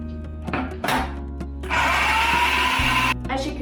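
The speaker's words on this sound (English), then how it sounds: "I'm going to blend it for a couple of minutes" A kitchen blender whirs through peaches and water for sorbet, starting after a few short knocks and clatters, then holding a loud steady grinding drone before cutting off, with a voice talking over the quieter parts.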